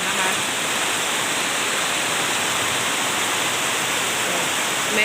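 Heavy rain driven by wind pours down outside a house, a dense, steady, loud hiss that holds evenly without letup.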